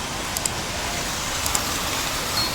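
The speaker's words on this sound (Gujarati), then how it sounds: "વરસાદ તો બહાર તોડી નાખે એવો વરસાદ આવે" Heavy rain pours down outside, a dense, even hiss with a few faint ticks of drops and no voices.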